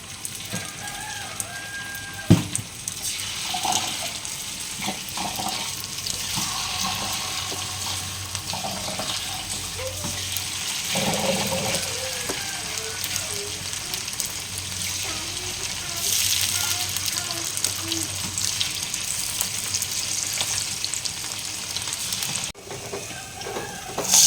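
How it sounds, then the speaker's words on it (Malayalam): Chicken pieces fry in oil in a pan, giving a continuous crackling sizzle that runs throughout, with occasional louder pops and a voice breaking in now and then. "അപ്പോൾ ചേട്ടാ ചിക്കൻ പൊരിച്ചുകൊണ്ടിരിക്കുകയാണ്."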